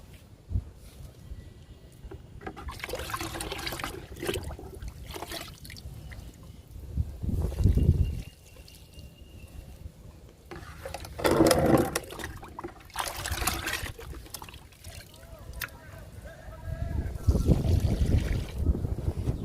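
Homemade liquid fertilizer is poured onto drumstick and jasmine plants in a home garden, with soft splashing and trickling bursts under light outdoor wind noise.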